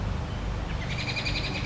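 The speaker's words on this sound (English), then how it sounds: "like those birds that are singing" Birds chirp and trill in a quick repeating pattern through the second half, set against a steady low background hum in a calm outdoor setting.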